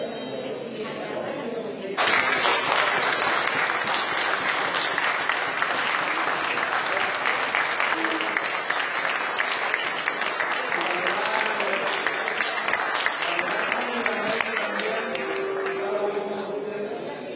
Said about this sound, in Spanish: fue aplaudido por todas las personas, por todos los parlamentarios que estaban al interior de la sala